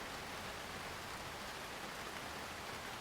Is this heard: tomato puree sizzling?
no